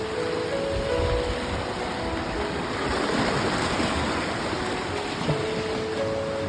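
Strong ocean waves surge and wash continuously, a loud, steady roar of surf close by with no pauses.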